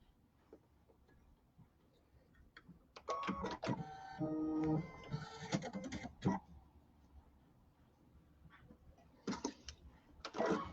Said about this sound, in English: Sew these on.